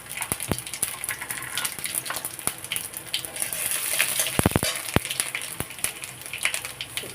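Panch phoron spices hit hot oil, giving a close, crackling sizzle dotted with sharp pops and spits throughout.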